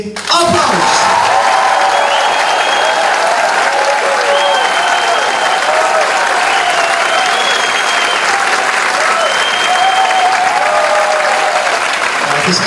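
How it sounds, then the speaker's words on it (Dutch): Children's audience clapping together on cue at a kids' event, a loud, sustained burst of applause with cheering that fills the whole stretch without a break. "ik tel af tot drie en dan gaan we één keer het applaus oefenen"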